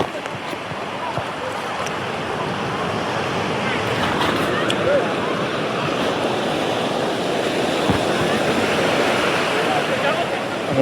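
Sea waves washing onto a beach on a full-moon outing, a steady, loud, unbroken roar of surf with wind buffeting the microphone throughout.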